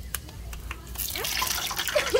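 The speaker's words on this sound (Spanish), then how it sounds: "¡Ay, le echó agua!" Water poured into a pot of hot beans being cooked, giving a brief splashing hiss that rises over a second and continues amid faint kitchen sounds, with a voice speaking briefly earlier.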